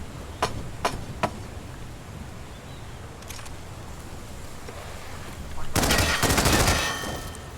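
Gunfire in Hitman 2: three sharp shots in quick succession, then a lone faint crack and a louder burst of noisy impact.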